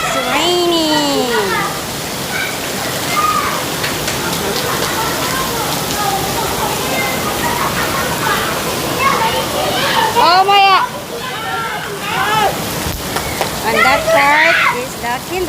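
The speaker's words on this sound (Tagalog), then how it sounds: "It's raining." Rain falls steadily outside a Korean public school, a continuous close wash under children's voices and chatter.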